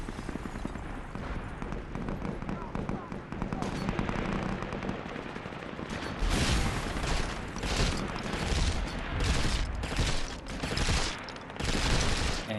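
Rapid automatic gunfire from the SOCOM 4 multiplayer video game on PlayStation, dense bursts of shots and mechanical clatter that grow louder and heavier in the second half.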